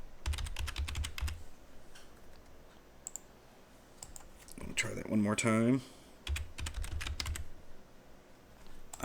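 Rapid bursts of typing on a computer keyboard, close and crisp, with clusters of key clicks before and after a short stretch of someone talking.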